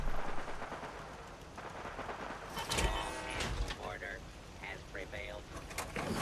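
Gunfire from the video game Fallout 4, a busy stretch of shots and blasts layered over game noise, with a voice talking through parts of it.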